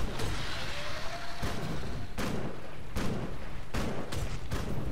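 Repeated AoE explosion effects from the action role-playing game Grim Dawn burst out as a rapid series of sharp, loud booms, roughly six in five seconds, over dense combat noise with no speech.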